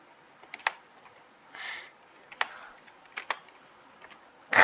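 Keys on a computer keyboard are tapped in scattered bursts, close and crisp with pauses between clusters, ending in a louder clatter.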